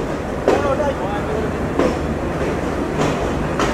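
A Rupsha Express intercity train runs into Jessore Junction in Bangladesh, a steady rolling rumble and rattle of railcars with periodic louder clanks at the rail joints, heard from on board.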